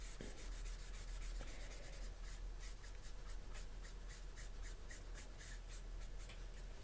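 Copic alcohol markers rub and glide across paper as a sky is colored and blended, a soft continuous scratchy stroking with quick repeated passes, faint and close with no voices.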